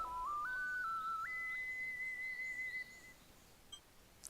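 A whistle melody in The Legend of Zelda: Link's Awakening plays as a clear, bright tone stepping upward through several notes, holding a long final pitch before cutting off, alone over quiet game background.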